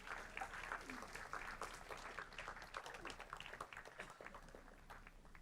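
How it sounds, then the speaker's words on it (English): Audience applause for volunteers at a board meeting, a dense steady patter of many hands clapping close by for several seconds, with a few cheers mixed in. "Let's give them a big round of applause."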